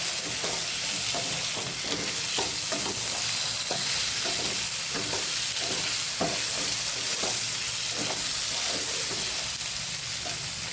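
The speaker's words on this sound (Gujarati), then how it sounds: "સરસ સાતળી લેવાનું છે આપણે ચિપ્સને" Finger-cut potato chips sizzle and fry in a pan, with repeated scraping strokes of a spatula stirring them at a steady rhythm.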